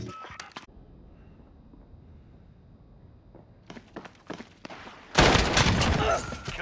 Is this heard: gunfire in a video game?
yes